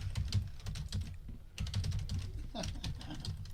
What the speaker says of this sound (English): That's me typing.